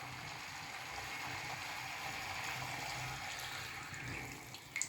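Water poured into a pan of chicken chukka as it cooks, a steady splashing, hissing wash held at an even level for about five seconds with a small knock near the end.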